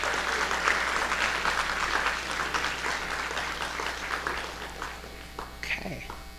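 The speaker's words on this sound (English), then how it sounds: "Give a round of applause." A round of applause from the crowd at a family day event for a raffle winner called to the stage, fairly steady and moderately loud, with talking mixed in.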